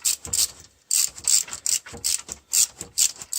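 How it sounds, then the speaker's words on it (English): A hand ratchet clicks in short repeated bursts while tightening a bolt on a car's coolant thermostat housing, crisp and close with brief pauses between strokes. "Then use the ratchet."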